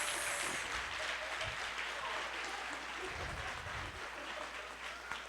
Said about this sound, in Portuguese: Aplausos para eles.